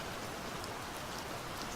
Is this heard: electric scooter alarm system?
no